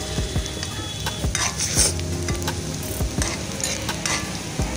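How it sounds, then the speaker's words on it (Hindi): Two onions frying in a pan for a leftover-rice dish, with a continuous loud sizzle and repeated spoon scrapes and clinks against the pan as they are stirred. "आप दो प्याज को अच्छी तरह से भून लेंगे"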